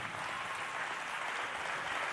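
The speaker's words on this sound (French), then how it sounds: "Applaudissez bien fort pour les deux équipes" Audience applauding both teams at a neighbourhood youth team competition in a parish setting, a steady, fairly faint wash of clapping throughout.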